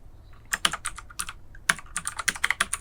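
Typing text into MS Word on a computer keyboard, irregular bursts of crisp key clicks, close and distinct, with short pauses between words.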